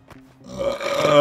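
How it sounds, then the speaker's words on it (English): A person playing Horizon Zero Dawn lets out a big, drawn-out burp, close and rising in loudness, following a brief grunt-like vocal sound. "That was a big old burp."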